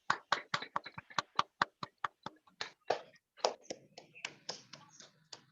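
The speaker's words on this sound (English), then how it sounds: "let us give a round of applause to Toastmaster Manas" At a Toastmasters charter meeting, a small group applauds a member with sparse, sharp, individually distinct claps that come quickly at first, then thin out and become more scattered.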